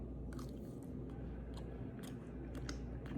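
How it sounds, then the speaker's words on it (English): Crunchy farofa, toasted cassava breadcrumbs, being chewed close up: a quiet series of sharp, irregular crisp bites and crunches over a soft background hiss. "These little crunchy breadcrumbs are kind of satisfying to eat."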